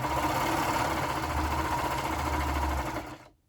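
A sewing machine runs a sleeve seam in one continuous, close mechanical whir with a steady rapid needle rhythm, stopping near the end.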